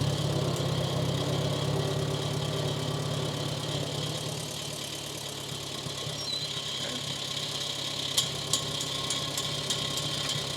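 Older Farmall 140 tractor engine running steadily at idle, a continuous low rumble with a few faint clicks toward the end.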